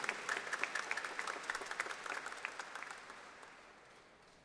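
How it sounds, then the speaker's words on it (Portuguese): Clapping from a congregation at a Catholic Mass for an episcopal ordination, heard as a brief burst of distinct hand claps that thins and fades out over a few seconds. "Uma salva de palmas no coração da Diocese de Marília."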